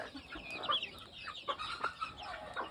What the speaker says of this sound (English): This is my original brown-red brood hen.